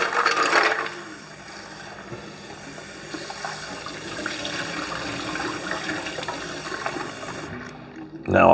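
Water runs and splashes in a pot of boiled eggs as ice is added, a steady faucet-like rush with small knocks and clatters, ending in a brief louder clunk.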